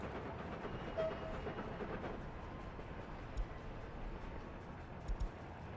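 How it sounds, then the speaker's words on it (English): A diesel train rolls along in the city-building game Workers and Resources, a steady low rumble with occasional clicks of the wheels and no talk over it. "send a diesel train on this journey"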